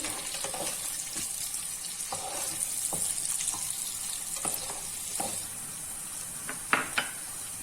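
Cut green chilies sizzle in hot oil in a pan, browning for a paneer and green pea pulao: a steady crackling hiss broken by occasional clinks of a spoon stirring, with no talking.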